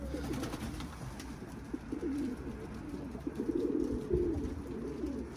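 Cicibaş pigeons coo close by in a soft, steady, rolling chorus of repeated throaty calls, with no talking.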